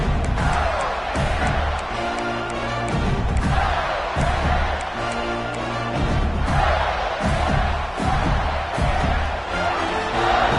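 A football stadium crowd at a TAMU versus UF game roars continuously, loud and sustained, with swelling cheers and scattered thuds throughout.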